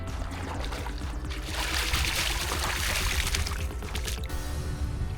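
Lugworms being washed in water make a steady pouring, sloshing splash that runs continuously at moderate closeness, with brief clatters near the end.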